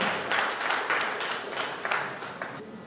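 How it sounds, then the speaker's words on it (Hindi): Loud, sustained applause from an audience welcoming a guest onto the stage at a family reunion gathering, dense clapping that swells in waves and carries on steadily without voices. "जोरदार तालियों से स्वागत किया जाए"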